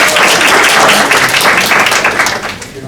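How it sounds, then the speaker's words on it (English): Audience applause at an Illinois event marking the new Illinois Assyrian Caucus, a dense steady wash of many clapping hands that holds loud for most of the stretch and begins to thin toward the end. "And we can clap for that."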